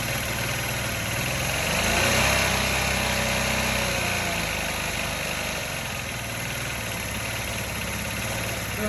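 A Honda Elite 80 scooter engine idles steadily during idle air adjustment, a continuous close buzzing drone that swells slightly midway before settling, with no speech.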